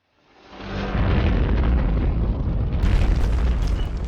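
A gigantic explosion destroys a bridge packed with troops, wagons and horses in a war documentary: a deep boom swells within half a second into a sustained, dense rumble that keeps roaring loudly to the end.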